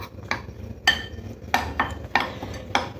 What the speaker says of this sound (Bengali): সমস্ত কিছু খুব ভালো করে বেসনের সাথে মিশিয়ে নেব।